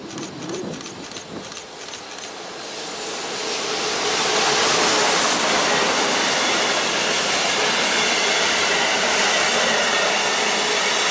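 Passenger and freight trains pass through a Belgian station: a faint rattle of wheels at first, then a loud, sustained roar and rush of a train going by close to the platform.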